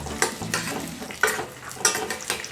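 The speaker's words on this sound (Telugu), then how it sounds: "ఇప్పుడు కిస్మిస్ వేసుకుందాము" Raisins fry with cashews in a pan for sago and jaggery payasam: a crackling sizzle is cut by four or five quick, rhythmic stirring scrapes close by.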